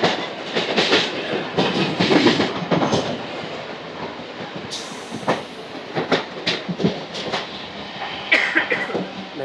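Chennai suburban local train running on rails, with rhythmic clickety-clack of wheels over rail joints, rattling carriages and occasional sharp squeals, heard from on board and fairly loud throughout.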